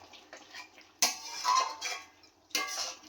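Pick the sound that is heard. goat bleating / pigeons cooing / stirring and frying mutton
stirring and frying mutton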